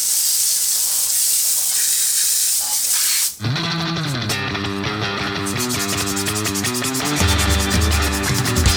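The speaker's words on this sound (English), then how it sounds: "we're going to rinse the wheel first and then coat the entire wheel with the cleaner" Armor All wheel cleaner hisses from a spray bottle onto a car wheel in a steady loud burst lasting about three seconds, then gives way to music.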